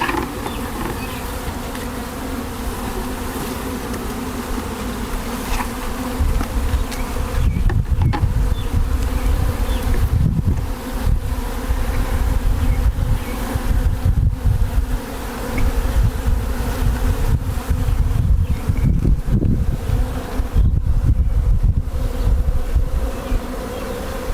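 Honeybees buzz in a steady, dense drone around an open hive while a nuc is installed, the hum swelling louder and closer at moments as bees pass near.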